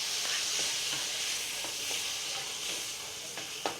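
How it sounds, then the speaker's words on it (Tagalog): Aromatics sauté in a pan with a constant bright sizzle and hiss, with occasional faint stirring taps and a sharper knock at the very end. "So, simpleng gisa lang guys."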